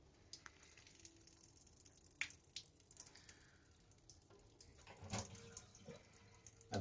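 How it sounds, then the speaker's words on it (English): Trapped water drips and trickles out of toilet plumbing in a summer camp latrine during winterization, quiet irregular splashes and taps with a louder burst near the end. "you'll see the amount of water that drips out of this that would have been trapped"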